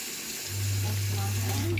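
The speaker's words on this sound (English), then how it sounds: "I'm going to go wash my hands" A kitchen tap runs into a sink while hands are washed, a steady loud stream of water that starts abruptly and then holds.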